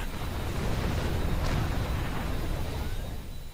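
A cruiser blows up in a Star Trek Online space battle, giving a broad, sustained rumbling blast with no speech, the roar staying loud and dense for the whole few seconds.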